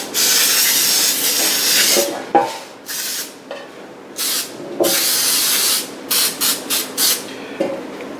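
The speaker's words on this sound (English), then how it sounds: "This is Baker's Joy mold release. This way it comes out a little bit easier." Baker's Joy mold release sprayed into a bread pan, several loud hissing aerosol bursts of varying length, from long sustained sprays to short quick puffs close to the can, with no talking.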